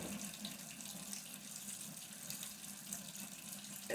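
Tap water runs steadily into a bathroom sink during face washing, a continuous close splashing flow with no talk over it.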